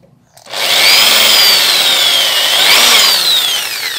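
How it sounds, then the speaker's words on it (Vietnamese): A power drill bores a hole with a drill bit in a part of a Senko mechanical fan being converted to remote control, a loud, steady, high whine starting abruptly and holding close to the mic. "Thì mình khoan cho nó có một cái lỗ nha các bạn."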